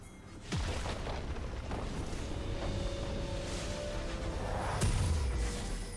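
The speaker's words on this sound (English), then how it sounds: "Blue team's inhibitor has been destroyed." Deep booming blasts in League of Legends as an inhibitor is destroyed: one heavy boom near the start and another near the end, each with a falling whoosh, over a sustained rumble.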